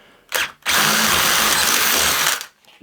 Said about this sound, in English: I'll get a 10mm drill and show you what happens